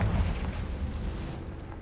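A Confringo blasting spell explodes in the Hogwarts Legacy video game near an acromantula cave, a loud deep boom that rumbles and slowly fades over a couple of seconds.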